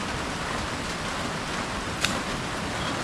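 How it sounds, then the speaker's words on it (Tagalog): Light, steady rain falling in a countryside farm area of the Philippines, a soft continuous hiss with one brief louder drop or tap midway and no talking. "Tuloy-tuloy yung pag-ulan dito sa amin mga kaprobinsya. Pero mahina lang."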